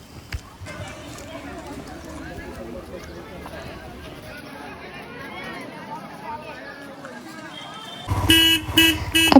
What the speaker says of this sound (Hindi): हॉर्न का भी मैंने बहुत इस्तेमाल किया